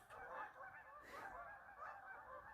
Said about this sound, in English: Got some geese flying around in circles out here